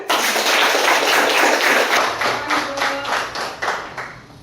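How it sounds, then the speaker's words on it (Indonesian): A classroom of students claps together, first in a dense burst, then thinning into separate, distinct claps that fade out toward the end. "Silakan diberi tepuk tangan."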